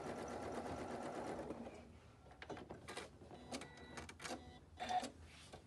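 A domestic sewing machine stitches a rolled hem with a rolled hem foot, running steadily and close for about two seconds, then stopping and restarting in short bursts separated by pauses.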